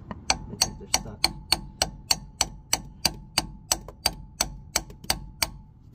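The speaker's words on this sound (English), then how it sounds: "They do need a little bit of hammering." Regular, evenly spaced metallic strikes, about one every third of a second, hammering at stuck engine mounts on a mini excavator during an engine bushing replacement; sharp, fairly close blows with no talking.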